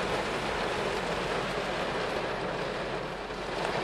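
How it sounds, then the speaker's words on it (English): Heavy rain pours at an outdoor festival as a dense, steady broadband roar without let-up, close and fairly loud, with no talk over it. "it is raining so hard."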